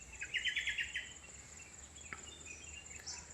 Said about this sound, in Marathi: पक्ष्यांचा चिवचिवाट या ठिकाणी आपल्याला दिसतोय